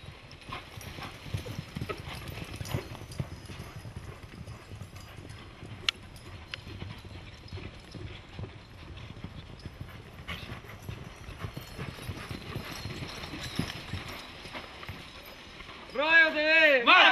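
Hooves of a Chilean rodeo horse clip-clop steadily in a rapid, quick-stepping gait, heard faintly and at a distance under ongoing commentary, with louder sound building near the end.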